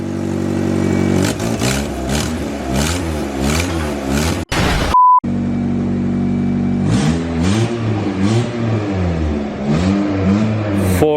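A rotary car engine with a leaking exhaust revs hard in repeated rising and falling bursts, loud and close, broken by a brief pause before the revving resumes.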